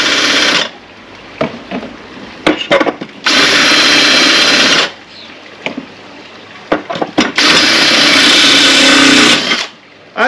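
A power drill whines loudly through tile in two long bursts, separated by pauses with small clicks and knocks, recorded up close.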